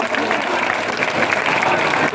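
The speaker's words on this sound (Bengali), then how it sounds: "সবাই করতালি দিয়ে তাদেরকে স্বাগত জানায়" A crowd at a political rally breaks into steady, dense clapping that holds at full strength for the whole brief moment.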